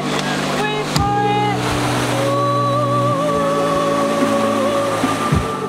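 A small private waterfall in the Rishikesh mountains of Uttarakhand gives off a steady broadband rush that holds throughout, while a voice and tonal sounds carry over it.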